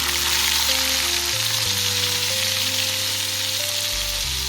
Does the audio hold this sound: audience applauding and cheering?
no